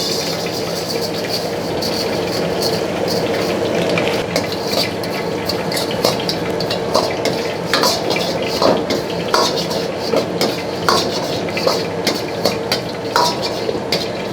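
Coriander seeds dry-roasting in a pan over low heat for chilli oil, a close rustling hiss with a utensil scraping and clinking against the pan in a steady, quickening stirring rhythm.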